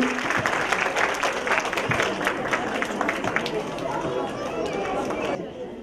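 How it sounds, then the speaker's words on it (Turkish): An audience claps as the curtain closes at a Quran course graduation ceremony, a brisk dense patter with voices and chatter mixed in, cutting off abruptly near the end. "Kuvvetli alkışlarınızla perdemiz kapansın efendim"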